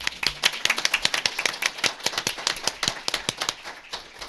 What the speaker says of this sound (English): I'm going to ask you to give Chief Justice Jeff Bivins a round of applause.